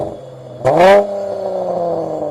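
A Dodge Charger GT with a dual exhaust system gives one sharp, loud rev close by, then settles into a steady, throaty idle.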